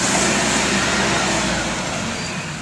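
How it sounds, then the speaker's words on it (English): A truck arrives at a plant nursery loading dock, its engine a steady, moderately loud broadband rumble that slowly fades, with no voices heard. "So you can see a truck just came in"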